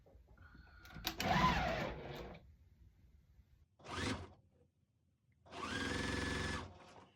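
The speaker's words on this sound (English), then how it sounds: "I might as well go ahead and sew this on" A sewing machine stitches a quilt block strip in three short bursts of whirring, close and moderately loud, separated by quiet pauses with handling noises.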